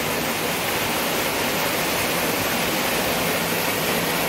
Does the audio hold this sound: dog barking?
no